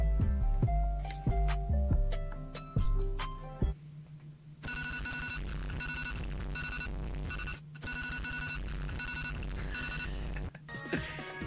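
A phone ringtone plays a song, a loud, steady musical loop of bright tones over a thumping low beat that continues for several seconds with brief breaks.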